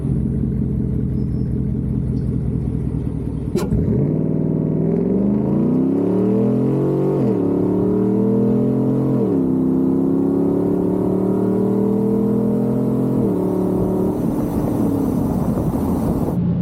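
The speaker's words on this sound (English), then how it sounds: "First time doing a full drive launch like that" A loud engine roars and climbs through rising revs, dropping as gears shift and climbing again, a Chevrolet Silverado pickup on street tires accelerating hard and close from a launch.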